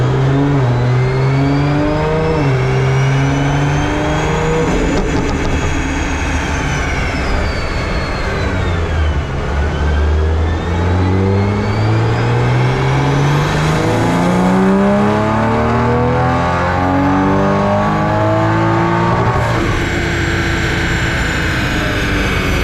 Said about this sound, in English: we thought we'd do a power run on the dyno to see what power it's making